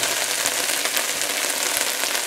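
Okra and shrimp frying in a pan, giving a steady, dense hiss and crackle of hot oil that holds constant and close throughout.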